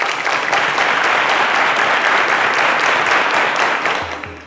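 Studio audience applauding on the televised Cowbellpedia quiz show, a dense, loud, sustained wash of clapping from a large crowd that holds steady for several seconds before starting to fade, with no speech over it.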